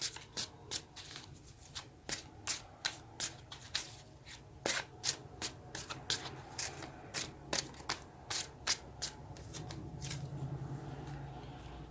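Close, quiet shuffling of a tarot deck, a rapid string of crisp card riffles and flicks in an irregular rhythm that softens near the end, with a faint low hum underneath and no talking.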